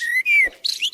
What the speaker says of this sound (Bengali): পাখির ডাক, গাছের পাতার ঝিরঝির শব্দ